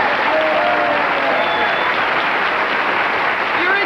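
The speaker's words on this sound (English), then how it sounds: "a big round of applause for Bob Mackie" A television studio audience at a variety-show reunion bursts into loud, dense applause for costume designer Bob Mackie, a steady roar of clapping with faint cheers mixed in.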